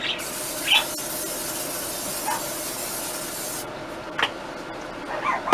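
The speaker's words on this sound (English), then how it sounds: "we're going to spray it lightly with vegetable oil, olive oil, whatever you've got" Vegetable oil sprays into a casserole dish in a steady close hiss for a few seconds, then cuts off, followed by faint scrapes and squeaks.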